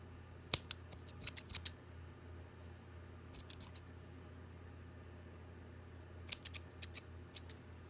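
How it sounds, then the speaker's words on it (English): Scissors snip close by in a quiet room, sharp metallic clicks arriving in short clusters of several cuts with pauses between them over a low steady hum. "I'm going to have to get scissors."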